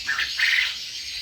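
A pink-necked green pigeon, injured after flying into glass, gives two short, thin chirping calls close by against a quiet background.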